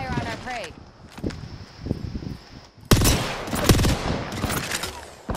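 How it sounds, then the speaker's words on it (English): Apex Legends gunfire, with bursts of shots over ongoing game noise and some footsteps. The fire gets louder and denser in the second half, and voices speak under it. "Opening fire on our prey."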